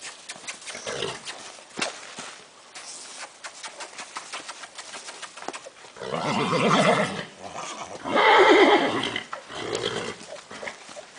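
A young foal trotting, its hooves clip-clopping in an uneven rhythm at close to middle distance, with louder bursts of snorting or neighing breaking in toward the end over a noisy outdoor background.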